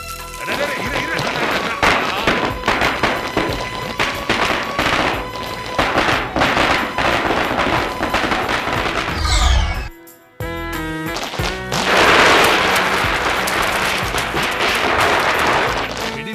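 Rapid strings of firecrackers bursting during a Diwali-style celebration, crackling volleys that cut off briefly and then resume just as loudly, with voices mixed into the racket.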